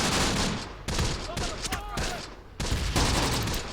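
Machine gun covering fire in the WWII tactics game Close Combat: The Bloody First, with loud, close bursts in several sharp volleys broken by short pauses as someone talks over them.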